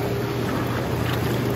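Water jets of a Strong spa hot tub churn steadily, a continuous broadband rushing and bubbling with a low hum, loud and unbroken with no talking.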